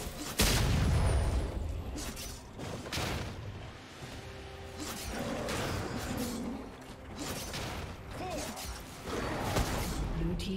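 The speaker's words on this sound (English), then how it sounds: "Blue team's turret has been destroyed." A turret being destroyed in League of Legends, loud crashing booms and crumbling mechanical clatter in dense bursts, mixed with game effects and a voice over the action.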